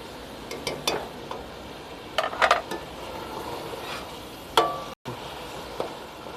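Mutton karahi frying in oil in a wok, with a soft, steady sizzle and a few sharp clinks of a utensil against the pan. The stirring sounds come in short bursts, close but fairly quiet, with no talking.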